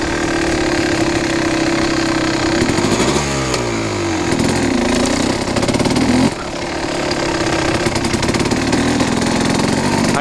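A Kawasaki KX 250 two-stroke dirt bike buzzes loudly while cruising, its raspy engine note rising and falling with throttle blips and gear changes, recorded close to the rider.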